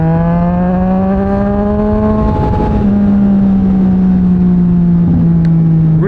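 A Yamaha MT-09 motorcycle fitted with a Mivv X-M50 exhaust holds a loud, close, steady engine drone, its pitch rising slightly and then easing back over several seconds, with no talking.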